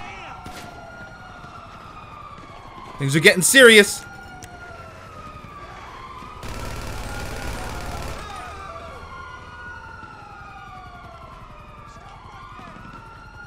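Police car siren in the online game GTA V, wailing tones sweeping up and down steadily in the background while someone speaks briefly, with a couple of louder bursts of other game noise.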